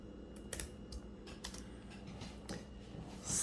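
Fingers type on a computer keyboard up close in quiet surroundings, a short run of soft, uneven key clicks and taps lasting a few seconds with no talking.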